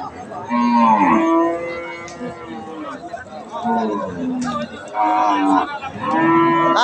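Cattle low and moo at a busy Bangladeshi cattle market, including Friesian and crossbred animals, with several drawn-out calls rising over constant crowd chatter and close talk.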